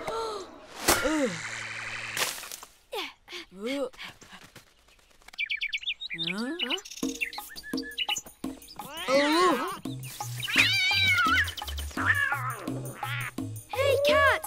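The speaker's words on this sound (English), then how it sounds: "Hey, cat." A cartoon cat meows several times among chirpy bird-like calls, with children's voices talking and music playing underneath.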